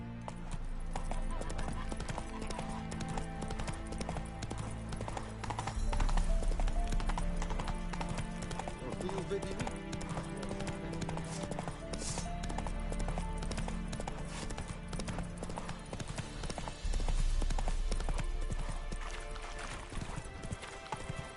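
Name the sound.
horse hooves galloping in The Witcher 3 video game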